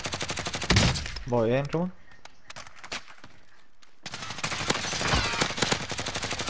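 Rapid automatic gunfire in a video game rattles out in dense bursts at the start and again near the end, with someone talking briefly between the volleys.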